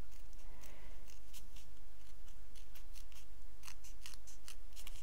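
Scissors trim the edge off a sheet of embossed silver aluminium foil, giving a run of crisp, close snips at an uneven pace with no talking.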